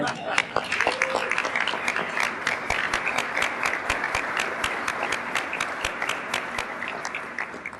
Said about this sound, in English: But give him a round of applause.